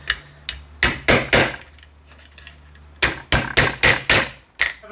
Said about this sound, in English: now it's time to do some fine-tuning with a rubber mallet and your mandrel